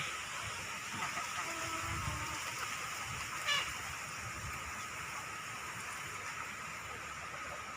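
Steady, dense hiss of rain falling near a forest, constant throughout with a brief brighter spatter midway, no voices.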